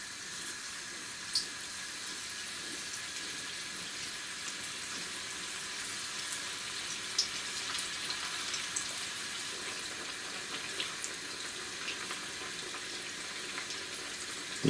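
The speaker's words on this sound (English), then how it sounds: "Now I'm going to deep fry these baby corns" Baby corns deep frying in hot oil, a steady, even hiss of bubbling and sizzle with faint pops, continuous and moderately close, no voices.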